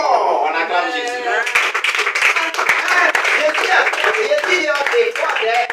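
A church congregation claps and acclaims Jesus, with rhythmic hand claps running under loud preaching and voices throughout.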